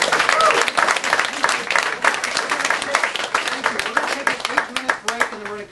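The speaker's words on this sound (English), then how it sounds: "A big round of applause for Bob and Rebecca, please." Loud applause from a crowd, dense clapping that carries on steadily and tapers slightly toward the end.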